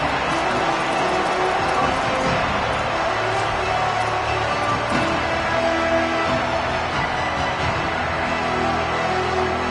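A large football stadium crowd roars in a continuous dense wash of cheering and chatter that stays loud and steady throughout, with no single voice standing out.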